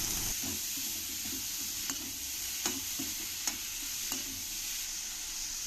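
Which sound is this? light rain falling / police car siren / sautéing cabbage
sautéing cabbage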